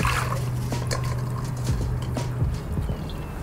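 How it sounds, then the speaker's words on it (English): Water trickles and drips steadily from soaked rice held in a sieve, a continuous close liquid patter with a low hum beneath and no talking. "Now, you want to drain the rice."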